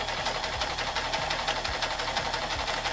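A sewing machine stitches broadcloth in a fast, even run of mechanical clatter, close and continuous throughout with no talking.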